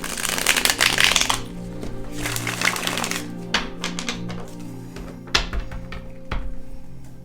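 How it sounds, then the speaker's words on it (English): A tarot card deck being shuffled, with brisk riffling and slapping of cards in the first few seconds, then scattered taps and thuds as the deck is handled. No talking. "Okay, so I just shuffled again."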